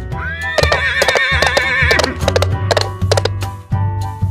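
A horse neighs loudly up close, a long wavering whinny followed by hoof clip-clops and knocks, with no talking.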